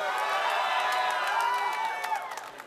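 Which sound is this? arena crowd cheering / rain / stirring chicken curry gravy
arena crowd cheering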